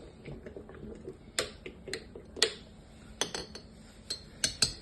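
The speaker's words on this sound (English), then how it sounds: "we give it a very good stir. And we're stirring it all up." Raw kombucha being stirred in a vessel, a spoon giving sharp, irregular clinks and taps against the sides, quiet and close with no talking.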